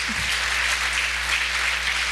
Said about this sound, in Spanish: Faltó el aplauso